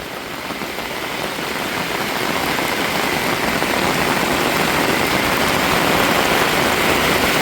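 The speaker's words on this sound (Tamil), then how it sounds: "இப்போ நல்லா மழை பெய்ய ஆரம்பிச்சிட்டு" Heavy rain pours down steadily in a dense, loud hiss, with a faint low engine hum underneath.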